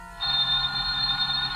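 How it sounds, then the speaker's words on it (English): A telephone rings loud and close in a 1949 radio drama: a continuous bright, trilling bell that starts abruptly and holds steady, with no voices. "Just then your telephone rings."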